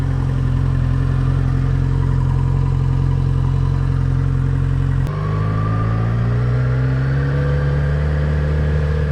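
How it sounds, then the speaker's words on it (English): A motorcycle with an inline-four engine drones loud and close while being ridden, its pitch dipping at a gear change between first and second and then climbing steadily as it accelerates. "So shifting between first and second is honestly the trickiest part of shifting on this whole bike"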